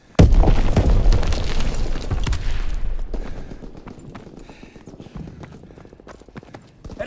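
A loud grenade blast in a WW2 video game match on Sainte Marie Du Mont, a heavy boom at the start followed by a long rumbling decay with scattered crackle and distant game noise.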